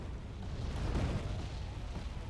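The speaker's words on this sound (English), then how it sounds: "And artillery's coming in on the LAV" Artillery shells bursting in the video game Wargame Airland Battle, a rumbling distant boom that swells and fades over a couple of seconds, with no talk over it.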